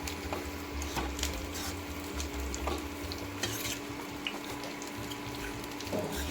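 Avial, a Kerala mixed-vegetable dish, being stirred in a pan after raw coconut oil is poured in off the heat, giving soft repeated scraping and wet stirring sounds with faint sizzle, steady and close throughout.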